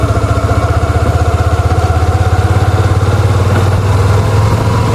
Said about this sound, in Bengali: এই যে বাইক এখন চলতেছে